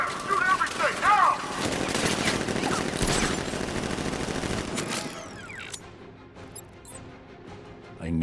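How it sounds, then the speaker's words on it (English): Rapid automatic gunfire in a Batman video game, loud dense bursts of shots mixed with game sound effects that fade toward a quieter stretch with scattered sounds. "Open fire! Shoot everything! Now!"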